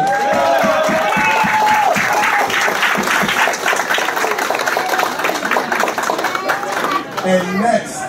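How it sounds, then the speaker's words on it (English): A crowd applauds at a karate school's grand re-opening event, loud and dense, with voices and cheering mixed in throughout. "Can we give him one more round of applause?"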